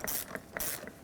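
A ratchet loosens the 8mm battery terminal nut on a 2009-2014 Ford F-150, giving two quick, close bursts of clicking with a brief pause between, each a crisp, dry ratcheting rattle.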